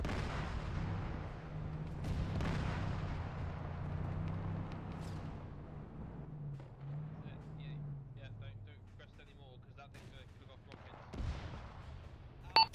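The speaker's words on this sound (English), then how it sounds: "Just what we need, a rocket launcher cooking off." Rocket launcher ammunition cooks off in ArmA 3 with deep, rumbling booms and crackling pops, followed by a sharp late crack. The blasts are heard at a distance beneath ongoing voices and a low vehicle engine drone.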